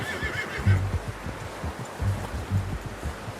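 A horse in Red Dead Redemption snorts and whinnies near and loud around the start, followed by a few shorter low snorts and huffs against a steady outdoor background.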